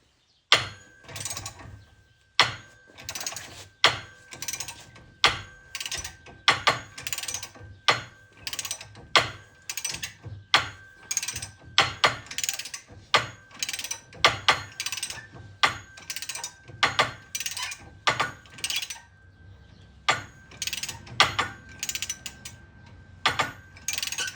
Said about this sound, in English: Got to get the bearing race off. I got my puller on.